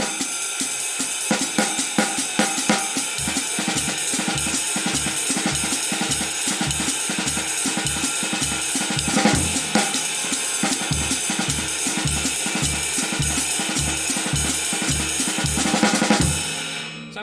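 A drum kit plays a steady up-tempo groove, with even kick and snare strokes under continuous bright cymbal eighth notes, moderately loud throughout.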